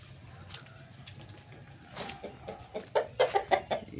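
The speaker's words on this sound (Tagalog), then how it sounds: "So yung mga alaga kong manok na natitira ay andun po sa loob. Andun po sa malaking kulungan." Pet chickens in a large coop cluck and call, first faint and distant, then a louder cluster of short clucks near the end over a low background hum, with no talk.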